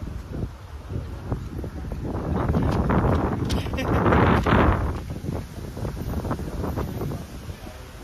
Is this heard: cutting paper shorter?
no